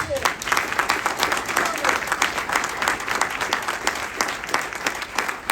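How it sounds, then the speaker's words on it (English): Sustained audience applause, dense and steady from start to finish, with a voice audible over the clapping. "Let's give them a round of applause, please."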